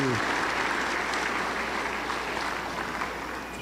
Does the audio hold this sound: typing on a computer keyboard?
no